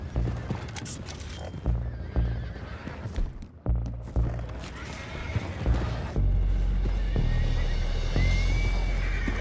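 Horses in the video game Red Dead Redemption 2 neigh and whinny repeatedly amid clip-clopping hooves and a dull background hum, fairly close.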